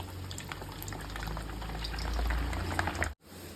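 Dry red chillies splutter in hot oil as a tempering for mango pickle, a continuous faint bubbling crackle with a few sharper pops, close by, stopping abruptly near the end.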